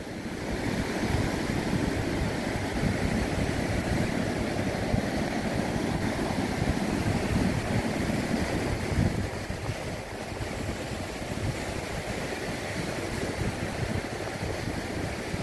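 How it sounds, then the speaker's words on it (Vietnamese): Sea waves crash against moss-covered rocks at Hồ Tràm beach, a continuous roaring wash of surf with rolling surges and gusty wind buffeting the microphone, steady and fairly close throughout, with no voices. "thường thì nước lớn nơi này tạo những con sóng rất đẹp do sóng dội vào đá bọt tung té"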